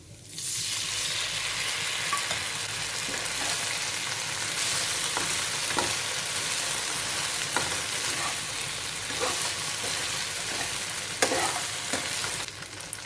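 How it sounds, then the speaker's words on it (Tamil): Honey chicken sizzles loudly in a pan as a cornflour and water mixture is stirred in, a constant crackling fry broken by repeated scrapes and clinks of a spoon, close up and with no talk. "நல்லா கலந்து விட்டுட்டு 1/2 ஸ்பூன் கார்ன்ஃப்ளவர் மாவு, கொஞ்சமாக தண்ணி சேர்த்து கலந்து வச்சுருக்கேன், அதை சேர்த்துக்கலாம்."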